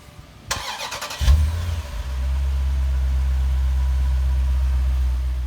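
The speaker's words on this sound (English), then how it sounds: "Take a listen to this cold start." A starter cranks briefly, then the V8 of a Jeep Grand Cherokee SRT with stock exhaust catches on a cold start and settles into a deep, steady idle rumble close by.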